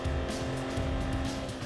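Car racing in Gran Turismo 2, a continuous loud engine drone with a sustained tire squeal as the car drifts wide through a corner.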